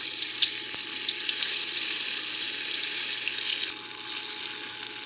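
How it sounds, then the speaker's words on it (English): Medium firm tofu pan-fries in hot oil for a vegetable stir fry, making a continuous even sizzle up close that stays alone without talk. "you put some oil in it. Then you put the tofu in it."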